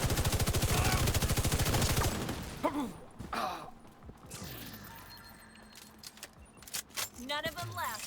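Video game gunfire: a rapid burst of shots fills the opening two seconds loud and close, followed by scattered fainter shots and clatter amid game noise.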